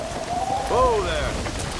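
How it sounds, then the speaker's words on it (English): Steady rain hissing across a surface in Red Dead Redemption, with a brief tonal cry or call rising over it midway. "We're not gonna be able to hear each other in this rain."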